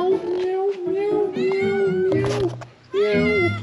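A cat meows in several drawn-out, wavering cries close by, with a short pause before a final rising meow.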